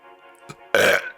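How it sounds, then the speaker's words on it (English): A loud, close burp bursts out alone after a faint low murmur, one rough belch lasting about a quarter second, followed by a short trailing breathy sound. "Oh, wait a minute, I'm going to burp now."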